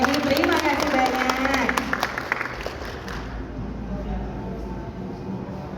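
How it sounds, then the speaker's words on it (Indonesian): An audience claps at the opening of an exhibition at the Four Points Sheraton in Makassar, a dense burst of applause for about three seconds that then fades under a speaker's voice. "Boleh kita berikan tepuk tangan yang meriah."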